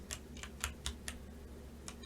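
Keystrokes on an RK89 mechanical keyboard with a hollow tone, a few distinct clicks spaced irregularly across the clip, close and fairly quiet over a low steady hum.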